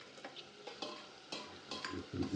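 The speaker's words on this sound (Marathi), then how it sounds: "आता ही थोडीशी फ्राय करून घेऊ" Prawns frying with chilli powder, turmeric and masala in a wok, a quiet close sizzle broken by several scraping stirs of a spatula at irregular intervals.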